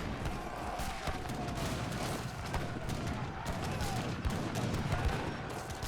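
Mortar blasts and gunfire in Age of Empires III: Definitive Edition, a dense, continuous battle din of overlapping shots and booms at steady volume, with a faint voice under the noise.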